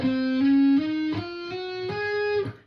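A distorted electric guitar plays the legato run ending a solo, sliding smoothly through a short run of connected rising notes, fairly quiet, fading out at the end with no talking.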